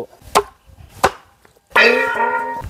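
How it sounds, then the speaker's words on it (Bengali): A few sharp knife chops strike a board as chicken is cut, two distinct hits spaced apart, followed by a louder burst of clattering and ringing noise. "চিকেন কেটে নেব।"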